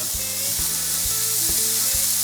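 Smash burger patties sizzle on a hot griddle in a steady, close frying hiss, with a few soft scraping taps from a spatula and no talking.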